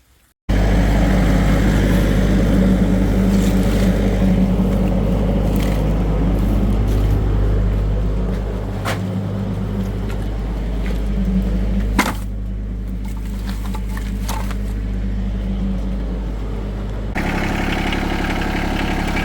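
A tractor engine on a cold, snowy farm catches and settles into a loud, steady low idle that runs on continuously, rumbling close by with a brief shift in tone partway through and no talking.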